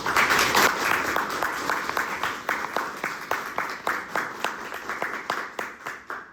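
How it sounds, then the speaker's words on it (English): A small audience at a university PhD dissertation defense claps, a loud burst of applause at the start that thins out into scattered, distinct individual claps as it fades over several seconds. "one more round of applause"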